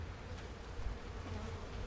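A steady, low buzzing of many honey bees fills the air during a honey harvest, close and continuous, with no voices over it.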